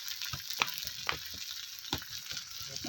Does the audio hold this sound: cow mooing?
no